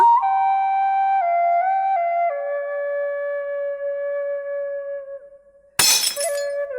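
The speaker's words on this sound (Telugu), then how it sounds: "అయ్యో, నా గిన్నె! అయ్యో, పగిలిపోయింది." A glass bowl shatters suddenly near the end with a sharp crash and scattering tinkle, following several seconds of a sustained ringing tone.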